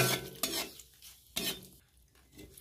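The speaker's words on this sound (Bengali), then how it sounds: "এবার আমি তেলের মধ্যে কারি পাতাগুলো দিয়ে দেবো, ভালো করে নেড়ে চেড়ে ভেজে নেব" Curry leaves frying in oil and being stirred, heard as a few bursts of crackling sizzle and utensil scrapes against the pan, separated by quieter gaps, with no voices.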